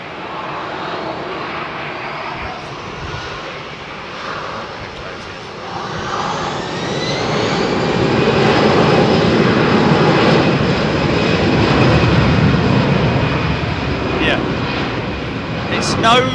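An Airbus A220 jet at Heathrow Airport passes with a swelling engine roar and rising whine, growing louder and closer over several seconds, with talk underneath.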